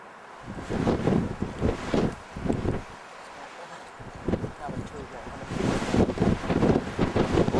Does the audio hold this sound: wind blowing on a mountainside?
yes